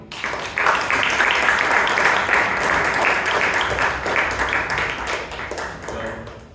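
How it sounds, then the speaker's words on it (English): Audience at a Toastmasters club meeting in Bangalore breaks into a big round of applause, dense sustained clapping that starts abruptly, holds steady for several seconds, then tapers off. "With a big round of applause, please welcome Toastmaster Duraisamy."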